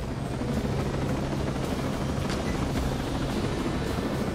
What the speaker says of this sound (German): Wenn Sie schnell zu den Antennen wollen, gibt es im Lager einen Hubschrauber.